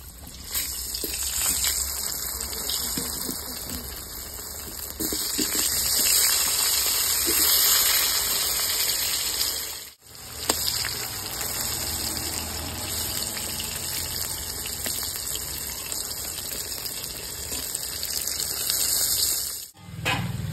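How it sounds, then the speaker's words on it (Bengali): Potatoes frying in hot oil for a rohu fish curry with cauliflower, a steady loud hiss and sizzle running continuously with brief dips, no talking. "ওই তেলে দিয়ে দিচ্ছি আলু"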